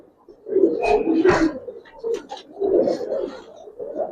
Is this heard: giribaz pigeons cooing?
yes